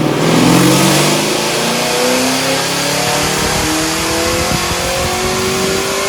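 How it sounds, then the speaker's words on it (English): A 1968 Camaro pro-touring build with an LSA V8 revs hard on a dyno, a loud, sustained, rising engine roar that fills the whole stretch. "And then it was time to dyno this car and see what it would do."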